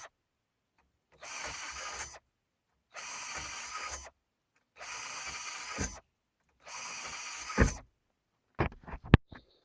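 A power drill bores drain holes into a SunFoil Mk-9 solar cooker in four separate whirring bursts of about a second each, close and steady, then a few sharp clicks and knocks at the end.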